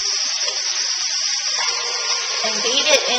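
Electric hand mixer whirring steadily and close up as it beats Philadelphia cream cheese into eggs for a sundried tomato and sausage breakfast strata, a high continuous motor whine with slight changes in pitch as it works through the mixture.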